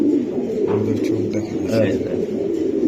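Racing pigeon with a club leg chip, cooing in low, repeated rumbling phrases close by, with faint voices and room noise around it.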